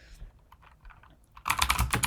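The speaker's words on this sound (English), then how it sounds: "I have to type something in a keyboard that is called I" Keys clacking on a computer keyboard during a Linux vi editor session, a brief quiet pause and then a quick, dense run of close, crisp keystrokes.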